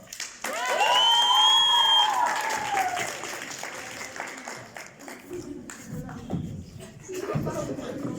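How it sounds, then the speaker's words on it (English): Applause at an English theatre workshop: high whooping cheers come first over the clapping, then the clapping carries on more loosely with shuffling and background voices. "A big applause for the robber."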